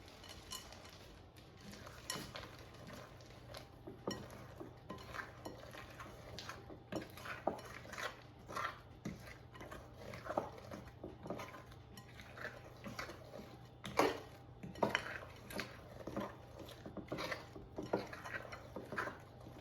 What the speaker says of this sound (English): add the final ingredient, 1 cup of white chocolate chips. And mix it until combined